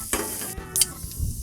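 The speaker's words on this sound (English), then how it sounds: "Onions caramelizing nicely." Onions caramelizing on a Blackstone griddle give off a steady close sizzle, broken by a few sharper scrapes and stirring clatters as they are pushed around the hot flat-top.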